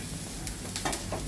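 Capsicum sizzling as it drops into a little butter in a frying pan, a steady soft crackle with brief brighter bursts of frying and stirring, close and alone with no talking.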